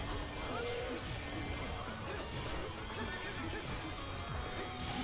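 Epona, the horse in the Nintendo Switch game Hyrule Warriors, neighs amid hoof clip-clops and busy in-game action, in a dense, continuous mix of game sound.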